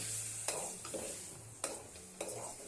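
Chicken frying in a pan is stirred, a steady sizzle broken by three sharp scrapes of the spoon against the pan, close and fairly quiet.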